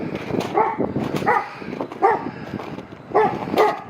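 A dog barks in an orchard, a few short, fairly close barks in repeated bursts with small yips between them.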